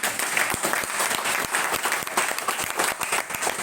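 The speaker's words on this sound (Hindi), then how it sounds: "एलआईसी के लिए तालियां जोरदार एकदम" Loud, dense applause from an audience at an LIC insurance agents' development meeting, a steady sustained roar of many hands clapping close by throughout, with no talk over it.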